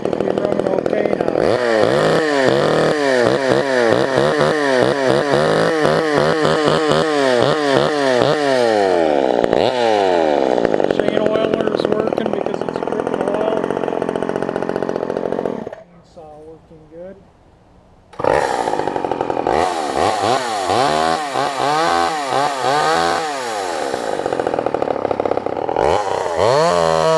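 A Craftsman 2.3 chainsaw with a 14-inch bar runs after being flooded, its two-stroke engine revving up and down loudly, dropping to a brief quiet idle before roaring again.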